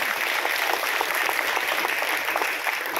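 An audience at a state-level inter-college debate competition prize ceremony applauds, a dense sustained burst of clapping filling the hall for the whole stretch.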